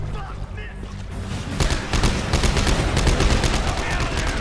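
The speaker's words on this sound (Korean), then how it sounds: "총 쏘고 있어" Gunfire in the video game Dead Space 3, rapid bursts of shots that thicken into a loud continuous barrage after a quieter start, with game sounds underneath.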